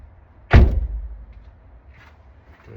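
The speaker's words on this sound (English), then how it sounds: "Now you watch this when I shut the door." A car door slams shut once with a loud, close thud, its low rumble fading over about a second into a quiet interior.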